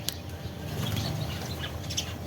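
Startled birds taking off with a flurry of flapping wings and scattered chirps, a soft, busy rustle set against steady outdoor background noise.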